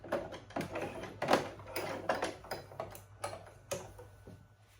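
A sewing machine stitches down a loop on a double-loop instant hijab, giving a quiet run of irregular mechanical clicks and short bursts of needle action, fairly close and without any talk.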